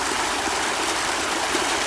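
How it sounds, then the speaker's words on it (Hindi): Water gushes steadily under pressure from a pump pipe onto farmland, a loud continuous rushing splash with no pauses and no talking. "ये निकल रहा है प्रेशर से पानी।"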